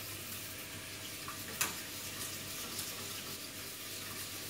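White sauce for a vegetable bake is stirred in a hot pan, a faint steady sizzle and bubbling with a few light utensil knocks.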